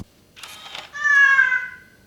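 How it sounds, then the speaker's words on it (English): A digital camera gives off an electronic cat meow: a short rising chirp and then a sustained, tonal, slightly falling meow, clear and close in an otherwise quiet room. "it makes cat noises"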